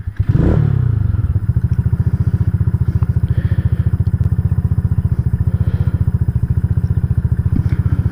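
A KP Mini 150 motorcycle fitted with a Nibbi carburetor and a new exhaust starts with a quick blip, then idles close and loud with a rapid, even, thumping exhaust pulse that holds steady throughout.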